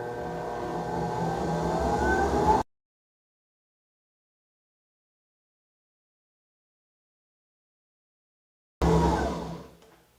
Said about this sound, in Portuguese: Agora eu vou voltar para a batedeira e vou bater ele. Agora eu vou ligar a batedeira.